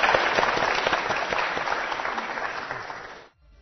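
Audience applause greets a keynote speaker on Chinese real estate, a dense, steady wash of clapping that holds for about three seconds before cutting off abruptly.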